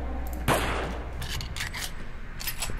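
Weapon fire in the Alien vs Predator video game, a sharp loud shot followed by several quicker bursts of gunfire over a low game ambience.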